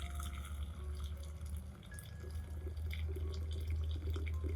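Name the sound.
pouring boiling water for turmeric solution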